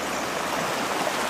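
A fast-flowing river rushes steadily, a dense, even, broadband roar of water heard up close, alone and constant throughout the short moment.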